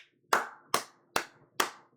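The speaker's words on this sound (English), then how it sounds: "can we just fucking clap it up?" Four sharp hand claps sound close by in a slow, even rhythm, each a crisp snap with a short decay into silence.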